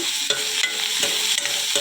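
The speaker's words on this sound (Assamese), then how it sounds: "আদা নহৰু অলপ সময় ভাজি গাহৰি মাংসটো ইয়াতে এড কৰি দিম" Ginger-garlic paste and pork frying in a pan, a dense continuous sizzle with regular scraping stirs of a utensil across the pan, close and loud.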